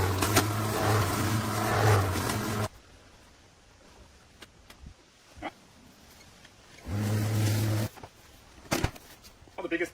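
An electric lawn mower runs in the yard in two separate bursts: a steady, loud, close hum for a few seconds, a quiet gap with scattered knocks and a voice talking, then a shorter run of the same drone.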